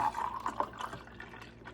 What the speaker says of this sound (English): And then I'm gonna pour it over my ice.